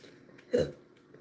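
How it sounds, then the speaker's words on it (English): One short, deep burp, a single close burst that stands out over a quiet background. "Sorry, I cannot talk. Keep burping."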